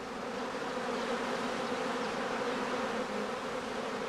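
A honeybee prime swarm at a heathland apiary in northern Lower Saxony fills the air with a dense, continuous buzzing hum, steady and close with no voices.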